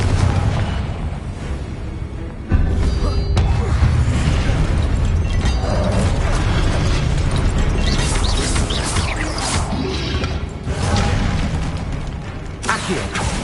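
Confringo blasting spell explosions in a Harry Potter video game: loud, dense booms and crackling bursts that pile up continuously with mechanical rumble underneath, one strong blast landing partway through.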